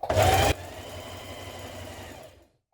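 A sewing machine stay-stitches trouser fabric near the raw edge, giving a brief loud burst of stitching that gives way to a softer fading hum.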